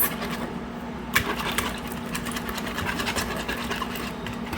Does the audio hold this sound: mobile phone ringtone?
no